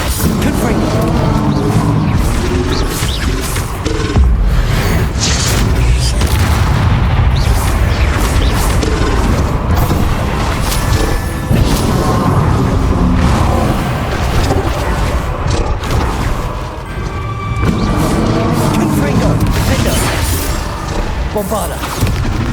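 The Bombarda blasting spell in Hogwarts Legacy lets off heavy booming explosions, loud and repeated across a chaotic duel, with crashes and bursts layered over game music and combat noise.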